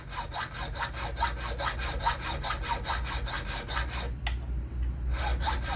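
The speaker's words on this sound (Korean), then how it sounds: "최대한 흔들리지 않게끔 톱질을 한 부분까지 최대한 줄질을 합니다." A hand file rasps back and forth in quick, even strokes close by, about three per second, on a clamped workpiece filed down to a saw cut, then stops briefly before resuming.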